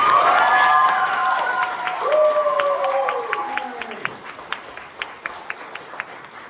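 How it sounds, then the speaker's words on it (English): A theater audience on the closing night of Ride the Cyclone at Tennessee Valley Theater claps and cheers, the crowd noise loud at first and then thinning to scattered individual claps, with vocal whoops early on. "Let's give them a round of applause right now."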